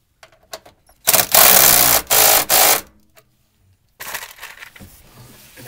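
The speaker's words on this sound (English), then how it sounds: "Tighten the metric bolt." A power tool drives a metric bolt while a running board is fitted to a Ford Transit van, in two loud close bursts with short pauses, then a fainter whir after a gap.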